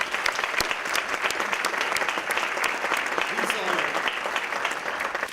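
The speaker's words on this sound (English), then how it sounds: "So let's give this whole group a round of applause for their leadership." A crowd at a My Brother's Keeper community event gives a sustained round of applause for a group of city leaders, dense and lively with occasional louder individual claps standing out throughout.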